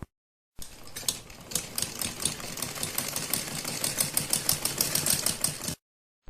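A sewing machine stitches a semi Patiala salwar in a rapid, even run of mechanical clatter that starts abruptly and stops after about five seconds, close and clear with no talking.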